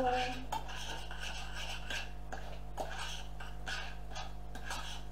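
Homemade lemon-scented laundry liquid being stirred in a container, with sparse light clinks and scrapes of the utensil over a low steady hum, fairly quiet throughout.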